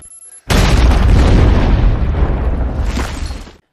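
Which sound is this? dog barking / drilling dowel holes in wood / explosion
explosion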